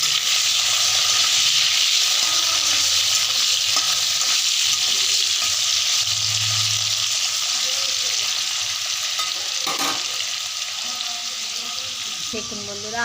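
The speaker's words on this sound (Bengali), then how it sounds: "আলুগুলো ভাজা হয়ে গেছে।" Potatoes fry in a pan with turmeric and salt, a strong steady sizzle held close for the whole stretch, with occasional stirring scrapes and a faint low murmur in the background.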